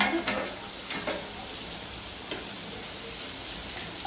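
Bombil fish frying in a pan, a steady close sizzle with a few faint utensil scrapes near the start, no voices.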